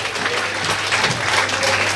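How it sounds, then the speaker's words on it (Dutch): A pageant audience at Miss Elegance International applauds, a steady wash of many hands clapping at moderate distance over a low hum. "Dames en heren, maak alsjeblieft een luid applaus voor Daphne."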